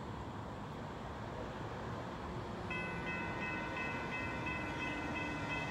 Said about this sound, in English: Here comes Union Pacific mixed freight train with a Gevo.